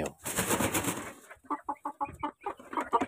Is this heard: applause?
no